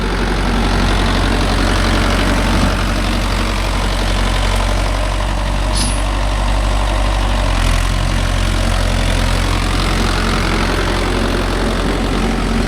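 A Mahindra Yuvo Tech Plus 585 DI 4WD tractor pulling a nine-tine cultivator in a field, its diesel engine droning loudly and steadily at close range the entire time.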